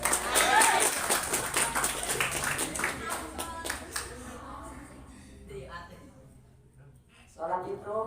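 Applause from an audience at a pesantren speech event, a dense burst of clapping that fades after a few seconds, followed by quieter sounds and talk.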